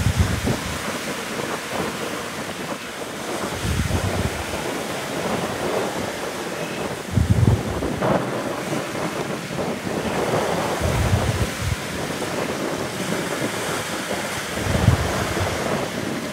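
Big sea waves crash and surge around a Vietnamese fishing boat heading out to open sea, a steady roaring wash of surf and wind with heavier thumping impacts recurring every few seconds, close and loud.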